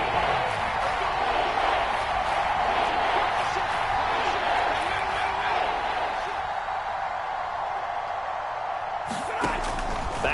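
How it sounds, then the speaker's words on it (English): Stadium crowd noise in a football video game, played as a live PS4 broadcast, swells into a loud, sustained roar throughout, with a brief sharp burst near the end. "Here comes a big one as this crowd gets out making some noise."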